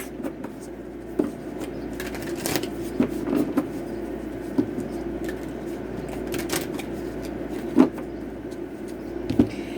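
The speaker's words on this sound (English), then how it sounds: "give me 2 more shuffles, please." Tarot cards are shuffled close by in a quiet room, soft riffling and scattered sharp card snaps over a low steady hum, with no voices.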